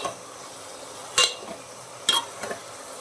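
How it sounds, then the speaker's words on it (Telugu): A spoon stirs cabbage and chana dal curry simmering in a pan: a few short, spaced scraping strokes over a quiet, low bubbling background. "ఐదు లేదా పది నిమిషాలు మగ్గిన తర్వాత ఒకసారి కలుపుకొని"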